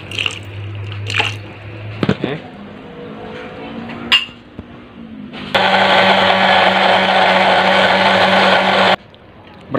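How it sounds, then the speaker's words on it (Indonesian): A kitchen blender grinds shallots, garlic and galangal in one loud, steady whirring burst of about three seconds, after some clinks and brief motor starts, with faint talking before it. "ya masukkan ke dalam blender"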